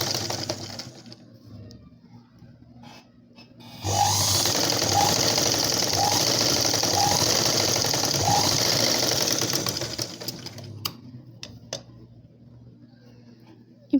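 A domestic sewing machine stitches a blouse seam, its steady motor whir running continuously for about six seconds at close range, with faint soft ticks, then slowing and stopping; quiet background before and after.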